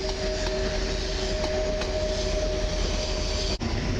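A Koleje Mazowieckie EN76 electric multiple unit passes at Warszawa Zachodnia station, a continuous loud rumble with a steady motor whine and periodic wheel clicks over rail joints.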